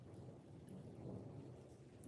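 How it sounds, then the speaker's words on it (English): Steady rain falling outside, coming in through an open balcony door, a low continuous rumbling wash with faint droplet ticks, quiet and even throughout with no talking. "I opened my balcony door so that you could hear the rain."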